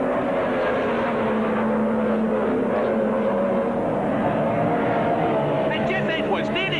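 Racing catamaran powerboats roar across the water at Bristol Docks in 1976, a loud, sustained engine drone with a commentator talking over it throughout.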